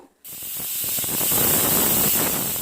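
A loud, steady hiss of steam venting from a pressure cooker whistle after a brief silence, continuous and close, like a pressure release.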